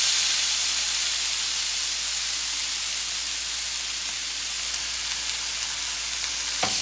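Flank steak sears on a hot grill pan for a reverse sear, a steady close hissing sizzle throughout with a few faint pops near the end, no talk.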